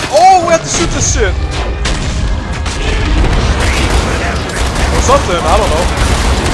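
Gunfire and heavy booming blasts in Killing Floor 2 during the Summer Sideshow carnival event, played as the Firebug class: dense, loud, continuous combat noise with overlapping explosions across the whole stretch.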